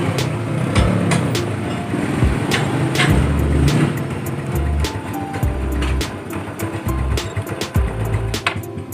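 A Yamaha Mio Sporty scooter engine idles close by with a steady low putter, its rhythmic pulses dipping and recovering as if close to stalling, with tool and handling clatter on top.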